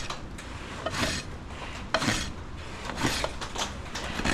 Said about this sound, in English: I'm going to come in and rasp the other side.